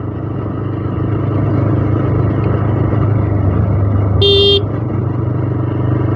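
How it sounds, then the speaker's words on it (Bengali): A TVS Raider 150cc commuter motorcycle sounds one short electric horn honk of about a third of a second, loud and near, over a steady low engine drone. "হর্নটা তেমন ভালো লাগে না।"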